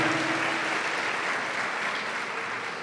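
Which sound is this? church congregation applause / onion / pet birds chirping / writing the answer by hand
church congregation applause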